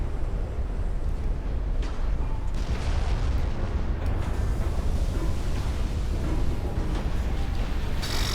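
Turrets on an enemy ship blow up in a naval video game, a sustained rumble of heavy booms and crashing blasts, loud and dense, with a few sharper bursts standing out.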